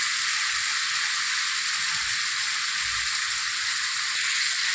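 Duck meat coated in salt and turmeric hits hot spiced oil, producing a loud, steady, continuous sizzling hiss with faint low thumps beneath and no talking.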